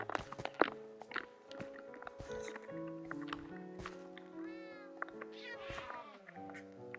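Repeated cat meows and caterwauls in a Minecraft Cubecraft Minerware game, several calls spread across the stretch among busy game clicks, footsteps and background music, fairly close and clear.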